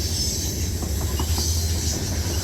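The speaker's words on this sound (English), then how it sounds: "as this train rounded the bend, that would conclude the video for us" A CSX freight train rounds a bend, making a steady broadband rumble with a faint hiss and wheel noise. It continues without a break and stays fairly loud.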